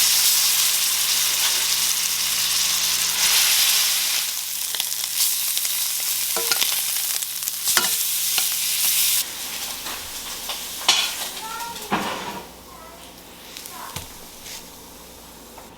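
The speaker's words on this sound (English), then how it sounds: "I'm gonna fry it up here in the pan here in a second" Steak frying in a pan, with a steady loud sizzle and occasional stirring or scraping, louder early on and easing toward the end; no talking.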